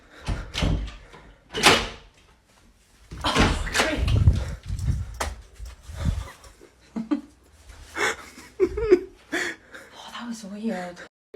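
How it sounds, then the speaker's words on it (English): A door in a house rattles and clatters in several irregular bursts, some loud and close. Voices and breathing are heard between and over the knocks. "I heard the door behind me rattling"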